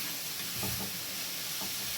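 Turkey mince sizzles in a pan as it cooks off for a burrito bowl, a steady close hiss with occasional stirring scrapes.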